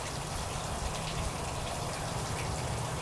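Steady broadband rush of water streaming from a Joolca HotTap portable water heater tap, running continuously and fairly loud with no breaks.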